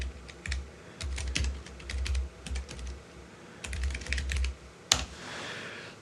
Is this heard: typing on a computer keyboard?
yes